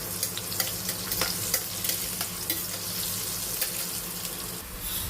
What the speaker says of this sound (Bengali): আলুগুলোকে ছেড়ে দিচ্ছি আলুগুলো একটু ভেজে নিচ্ছে অল্প করে ভেজে নেব আলুগুলো